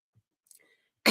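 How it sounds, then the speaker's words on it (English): A single sharp cough close to the mic at the end, after a moment of near silence with a few faint small noises. "I've still got my cough"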